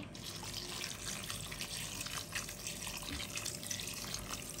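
Water runs steadily into a cooking pot for Filipino shrimp sinigang, a continuous broadband splashing rush at close range that holds even for several seconds without pause.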